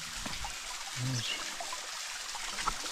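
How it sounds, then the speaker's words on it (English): A small waterfall on a St John hiking trail trickles and splashes softly at a distance, a thin continuous wash of falling water with faint outdoor background. "There's the waterfall. Kind of small today."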